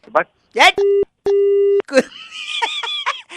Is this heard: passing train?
no